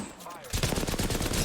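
Automatic gunfire in the video game Apex Legends, a rapid burst of loud repeated shots kicking in abruptly and continuing steadily, preceded by a short quieter moment with a faint tonal chirp.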